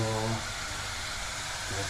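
Minced meat fries in oil in a pan, giving a continuous broadband sizzling hiss that runs throughout, with a person talking over it at the start and end.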